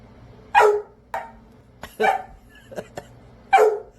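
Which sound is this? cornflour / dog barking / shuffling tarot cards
dog barking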